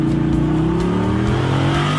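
A cartoon Bigfoot monster truck revs its engine loudly as it runs an obstacle course, the pitch climbing steadily in a close, continuous growl.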